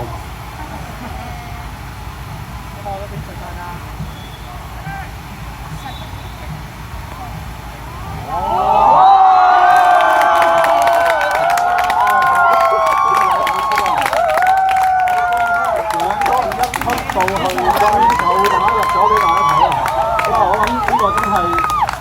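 A crowd at a beach woodball match at a Hong Kong beach festival bursts into cheering and applause partway through, after quieter ambience, with the noise sustained to the end and voices over it.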